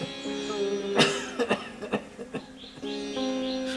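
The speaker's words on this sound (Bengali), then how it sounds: "এই হতচ্ছাড়া কাশিটা আর এই 1 মাস হলো কিছুতেই আমার পিছু ছাড়ছে না।" A person coughs in a few short, harsh bursts close by, spaced irregularly, with a faint steady background hum.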